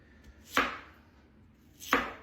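Two crisp knife cuts through an onion on a cutting board, about 1.3 seconds apart, close and fairly loud with quiet pauses between, while preparing vegetables for baked garlic rosemary chicken.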